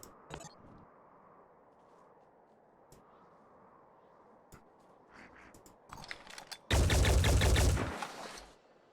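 Gunfire in Phoenix Point: a few isolated shots over a quiet hum, then a loud, sustained burst of rapid automatic fire lasting about two seconds before cutting off.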